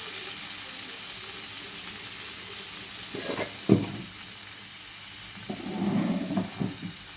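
Paneer tossed lightly in a little hot oil gives a steady soft sizzle, joined midway by a few clinks and stirring scrapes of a spoon against the pan, close and quiet with no talk.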